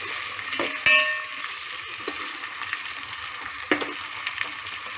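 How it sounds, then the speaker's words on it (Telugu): Tomatoes and green chilies frying in a pan for coconut rice, a steady soft sizzle with a few sharper clinks and stirring scrapes, close and moderately loud, no voices. "టమాటాలు వేస్తున్నాను తర్వాత పచ్చిమిరపకాయలు కూడా వేసేస్తున్నాను ఇంకా టైం పట్టుద్దండి బాగా వేగాలి"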